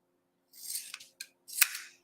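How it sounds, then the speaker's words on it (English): Scissors cutting craft material at an angle for a pumpkin, heard as a few short crisp snips close by in an otherwise quiet room. "We're going to cut this at an angle,"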